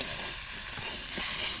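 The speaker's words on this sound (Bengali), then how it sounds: "আমার শাকটা এই যে ভাজা হয়ে গেছে, আর একটু রান্নাবো" Leafy greens sizzle steadily in a hot pan while being stirred, a close, continuous frying hiss with faint scraping strokes and no talk.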